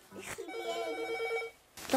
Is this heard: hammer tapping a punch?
no